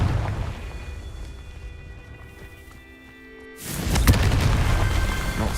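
A Confringo blasting spell goes off in a Hogwarts video game: a quiet, humming lull breaks into a sudden loud burst that rolls on as a sustained roaring crackle.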